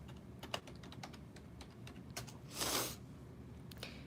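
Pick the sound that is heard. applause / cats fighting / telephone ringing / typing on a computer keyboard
typing on a computer keyboard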